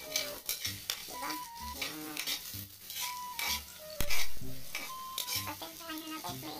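Ingredients being sautéed in a pan during home cooking, with soft sizzling under repeated stirring, spoon scrapes and clinks against the cookware, and a few sharper metallic knocks, heard at close range.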